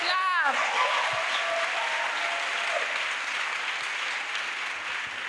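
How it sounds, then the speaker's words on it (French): Sustained audience applause and cheering at a church gathering, a dense wash of clapping that holds steady for several seconds after a brief voice and a whistle-like tone at the start. "Acclamation."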